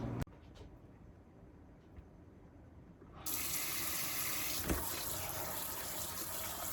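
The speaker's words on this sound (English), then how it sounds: "put them in a colander and give them a little rinse with some cold water" Cold tap water gushes into a colander of hot fire-roasted Pueblo chiles, starting after a quiet stretch and then running as a loud, steady splashing rush close by.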